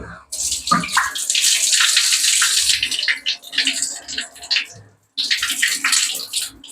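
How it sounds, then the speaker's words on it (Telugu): Water poured off washed rice for chicken biryani, a loud continuous splashing gush that eases and trickles before a short silence, then resumes pouring strongly; no talk. "కడిగి పెట్టుకున్న రైస్ వాటర్ అన్ని తీసేసి"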